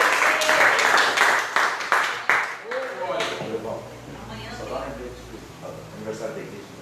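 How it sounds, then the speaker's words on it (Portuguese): Church congregation clapping in praise during a prophetic Friday service, a dense burst of many hands for about three seconds that fades out, followed by a voice speaking over the quieting room. "As palmas louvam o Senhor."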